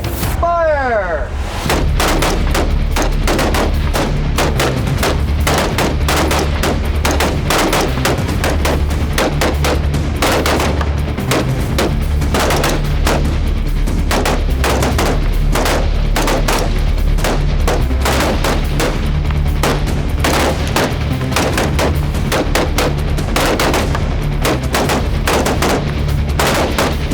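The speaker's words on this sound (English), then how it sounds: "I got to shoot a really nice rifle that is, way nicer than anything I have, with a great optic." Rifle gunfire from several shooters on a live-fire practice range, one shooter using a high-quality rifle with a good optic; dense, loud, overlapping cracks and booms continue throughout without a break.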